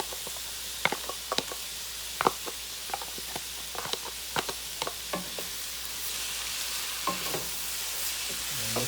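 Sauce with minced garlic frying in a pan for a lasagna, a soft steady sizzle broken by frequent scraping taps and clicks as a utensil stirs it, close and fairly quiet.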